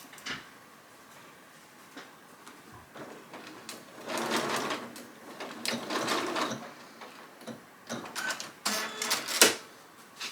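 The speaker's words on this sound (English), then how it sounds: "and I'm going to sew in that line between A3 and A4." A sewing machine stitches through the seam allowance of a paper-pieced quilt block in a few short runs, fairly quiet and close, with faint handling noises between bursts.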